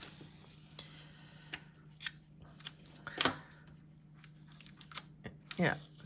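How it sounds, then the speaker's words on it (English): Scissors snip and tear through paper and decorative washi tape during journaling, giving several sharp cuts and crisp ripping bursts at close range over a steady low hum, with occasional talk. "This piece right here is ripping all the paper."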